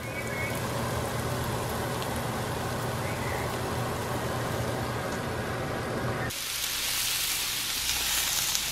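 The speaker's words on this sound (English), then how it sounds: "Got those frying up on the stove." Steady sizzling and spattering from morel mushrooms frying in a pan on the stove, continuous and close, with no talking.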